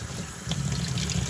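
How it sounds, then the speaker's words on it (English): Warm soapy water runs steadily over a two-stroke Stihl blower's air filter as it is rinsed, a close, continuous trickle and splash with a brief louder surge midway. "So just rinse it good from the outside here."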